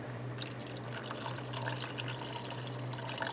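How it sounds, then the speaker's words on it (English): Water poured into a pot of hamburger vegetable soup on the stove, a steady splashing, trickling stream running continuously at close range under a low constant hum. "I'm going to add in a little bit of water."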